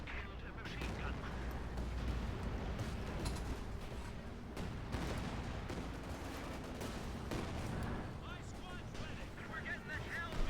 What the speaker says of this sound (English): Machine gun getting bombarded and wiped out.